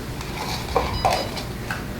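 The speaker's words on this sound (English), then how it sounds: "whisk this together till it's well blended" A strawberries and cream mixture is whisked in a bowl, with a few quick metallic clinks of the whisk against the bowl over a soft steady background, close and brief.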